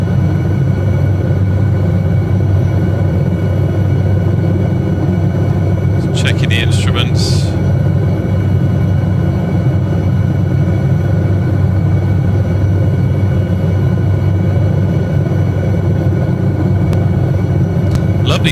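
An SA315B Lama helicopter flying over Lofoten, Norway, fills the cabin with a steady, loud low rotor and turbine drone that never lets up, while a voice talks over it.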